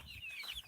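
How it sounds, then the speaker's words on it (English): Chickens on a farm clucking softly at close range, a short run of low cackles and murmurs over a faint outdoor background with no voices. "I'll just go closer to the chickens and show you the chickens again"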